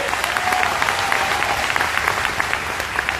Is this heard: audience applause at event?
yes